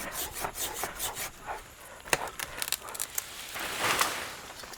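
A hand saw cutting through a tree branch outdoors, with a series of scratchy, rasping wooden strokes in an uneven rhythm, close and moderately loud, with a few sharper cracks partway through.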